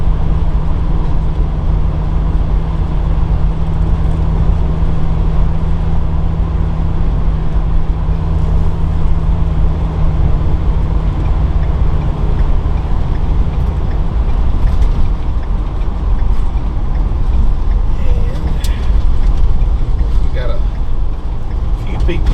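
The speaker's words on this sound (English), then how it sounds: "And we're going to take it down the interstate, of course." 2016 Thor Chateau 26B Class C gas motorhome cruising on the interstate, a loud, steady road roar and engine drone filling the cabin while someone talks over it throughout.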